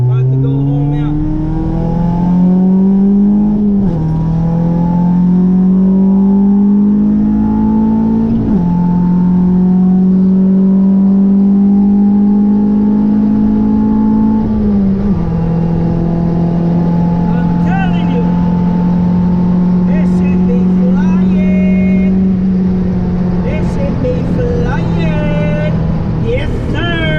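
A Honda B-series race car engine drones steadily while driving, its pitch stepping up through several gear changes and then holding at a constant cruise, loud and close with a rough exhaust note.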